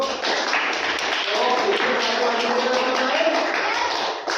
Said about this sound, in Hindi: ताली दो सब लोग